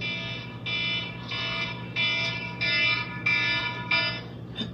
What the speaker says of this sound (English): that alarm literally is the school haunter